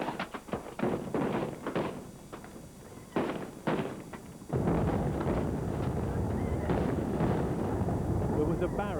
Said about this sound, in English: There was a barrage of tear gas, stun grenades and rubber bullets.